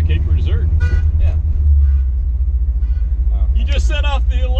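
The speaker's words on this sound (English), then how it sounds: "This loud car just set off the alarm that you just drove past." A car alarm set off by a passing loud car, its rising and falling electronic tones heard under steady road rumble and engine noise inside a moving car, with people talking.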